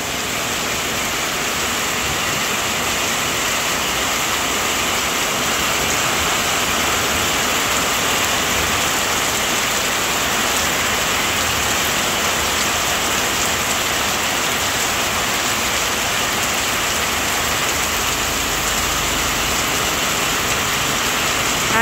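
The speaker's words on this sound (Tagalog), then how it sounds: "Sobrang lakas po ng ulan." Heavy rain pours down at night, a loud, dense, steady hiss that stays constant throughout with no voices.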